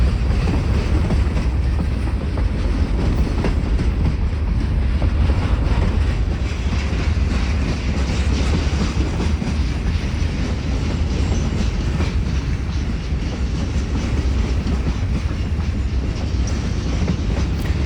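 A train rumbles steadily past on the rails, a continuous heavy roll with faint clattering of wheels, loud and sustained throughout.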